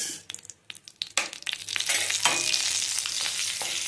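Urad dal tipped into hot oil in a pan for a leaf chutney starts with scattered crackles and stirring clicks, then builds into a steady, close, bright sizzle that holds to the end.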